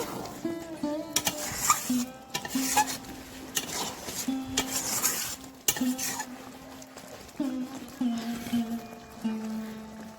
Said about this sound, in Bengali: লবণ দিয়ে ভালো করে নেড়ে নেব।